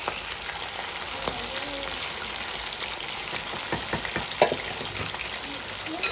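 Fish pieces deep frying in hot oil give a steady, dense sizzle and crackle throughout, with scattered pops and bubbling bursts, fairly close and moderately loud, no voices.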